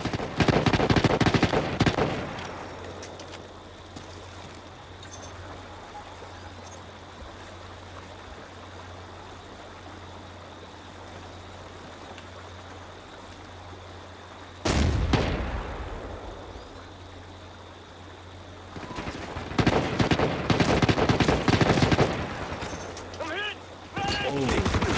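Ghost Recon: Future Soldier multiplayer gunfire on the Mill map: dense automatic bursts at the start, then a long quiet stretch of low hum, then one sharp shot and heavy renewed firing in the final seconds, with voices under it.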